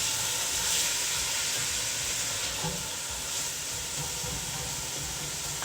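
Diced large Vidalia onion sizzles steadily in a hot pan, a continuous close hiss with faint crackles that holds evenly throughout, with no talking.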